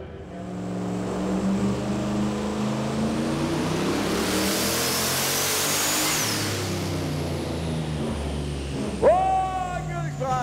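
A high-horsepower car engine of about 1,190 hp roars steadily on a dynamometer at a Summernats event, loud and sustained with rising pitch, then drops off into a sharp whining decel near the end.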